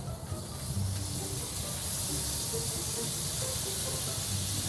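Butter sizzling in a hot pan while grilled cheese cooks inside a heated tent, giving a steady, close, bright hiss that holds evenly throughout without speech.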